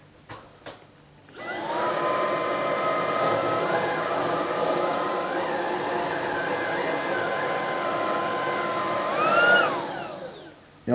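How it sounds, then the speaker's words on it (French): A Trouver Power 11 cordless vacuum cleaner running in normal mode gives a steady high-pitched whine with a rushing airflow hiss. It starts up, holds for several seconds, rises briefly and then spins down. "On va passer en mode normal."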